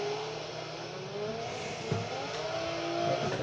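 A rear-wheel-drive race car of about 600 kilowatts revs hard while drifting at Maple Valley in Forza Motorsport 3. The engine note climbs and wavers in a steady, close, continuous roar.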